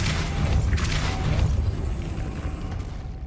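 A Depulso force spell cast in the Hogwarts Legacy video game lands as a loud, booming blast with a broad rumbling burst that rolls on and fades over a few seconds.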